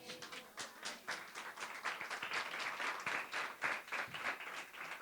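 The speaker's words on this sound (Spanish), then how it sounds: "¿Cuánto le dan un aplauso a Él?" A church congregation applauding steadily for several seconds during a Sunday service, dense overlapping claps at moderate distance with no talking over it.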